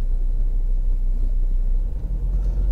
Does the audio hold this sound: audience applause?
no